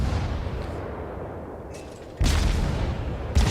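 Battleship gunfire in the naval game World of Warships: two heavy, booming salvos land about a second apart and each decays into a rumbling roar over a steady low engine drone.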